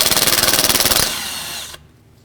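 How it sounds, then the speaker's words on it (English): A power driver with a T27 Torx bit spins out a factory thread-locked bolt holding the 4WD vacuum hub actuator on a 2008-2010 Ford F-250, a loud, close, rapidly pulsing whir that smooths out, then winds down and stops. "So take a T27 and remove the 3 bolts that hold this on."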